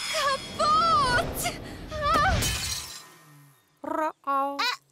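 A cartoon object shatters and breaks apart in a sharp, loud burst of crashing fragments, followed by a pause and then high, wailing animated voices.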